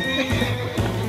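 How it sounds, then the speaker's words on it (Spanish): A hoarse donkey brays in Forza Horizon 5 as a short, raspy whinny-like call, with two bursts close together, near and moderately loud. "¿aquí llevo un burro?"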